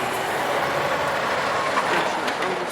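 A tram rolls across track switches at the Migowo tram loop in Gdańsk, giving a steady broadband rumble with faint clicking and light squeal as the wheels pass over the points, continuous and fairly close throughout.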